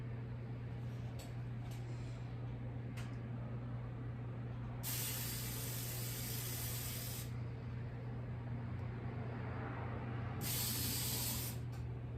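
Cooking spray is sprayed into a cupcake pan in two loud hissing bursts a few seconds apart, each lasting two to three seconds, over a low steady kitchen hum.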